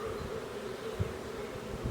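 Honey bees from a swarm drone and buzz continuously close by, a steady hum with small swells in intensity and no talk.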